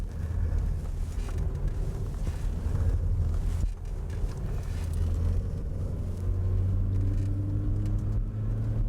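A 1998 Vauxhall Astra weaves through a slalom course, its engine droning steadily under heavy wind buffeting and road rumble, with the pitch shifting slightly as it swings in and out between the markers.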